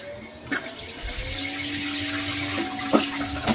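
A CANEST smart toilet running its automatic full flush, a steady rush of water swirling through the bowl for several seconds, heard up close in a bathroom with a few small knocks and clicks.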